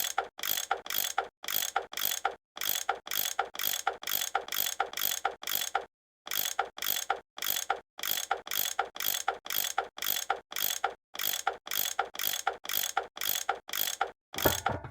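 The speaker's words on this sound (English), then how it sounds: "I bet that's what you use to unscrew these bolts." A ratcheting tool loosens bolts in the Nancy Drew game Last Train to Blue Moon Canyon, a rapid series of clicking ratchet strokes repeating in steady bursts with brief pauses between.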